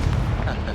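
A short, loud, close blast from a Confringo spell in a Hogwarts video game, a single dense burst of broadband noise that fills the whole moment.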